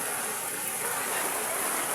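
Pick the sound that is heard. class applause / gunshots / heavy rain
heavy rain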